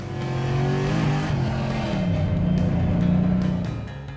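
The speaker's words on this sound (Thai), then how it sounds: "ส่วนถ้าเอาท้อคอนเวอร์เตอร์สำหรับแข่งมาขับปกติบนถนนก็จะได้ประมาณนี้ครับ" A car fitted with a racing torque converter driving on a road, its engine droning and rising in pitch as it accelerates, loud and close, with a slight dip before revving up again.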